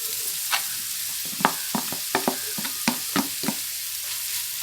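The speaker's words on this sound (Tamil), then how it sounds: "சேர்த்து நல்லா மிக்ஸ் பண்ணி விட்டுருங்க எல்லா இடத்துலையும்" Boiled, mashed potato being stirred into a hot frying pan for a homemade rava snack, with steady sizzling under a series of sharp scraping clicks from the spoon against the pan.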